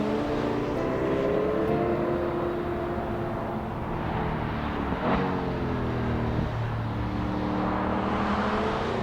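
A C8 Corvette with the LT2 V8 engine drones steadily from inside the cabin, its pitch rising and falling as it revs under load, loud and continuous with no talk.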